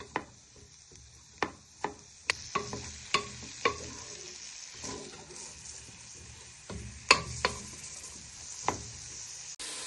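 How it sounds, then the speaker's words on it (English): Prawns stirred in a hot pan for a Mexican prawn soup, giving a steady sizzle punctuated by repeated scraping and tapping clicks of the utensil against the pan, close and fairly quiet. "Just give them a gentle stir for 2 to 3 minutes so they bring out loads of flavour."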